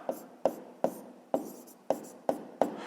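Pen writing on paper while working a sixth-grade maths exercise: seven evenly spaced scratchy strokes, close and clear, with no talking.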